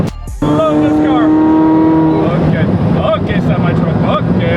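A Ferrari F40's engine rises sharply in pitch as it accelerates, then holds a loud, rasping tone while driving, with harmonics sweeping up and down through gear changes.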